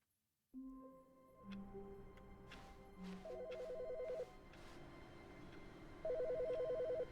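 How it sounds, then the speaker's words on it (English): A telephone rings inside a video game, its repeated electronic double-trill bursts sounding at a steady moderate level over a low ambient hum, with no one talking. "There's a phone to answer now?"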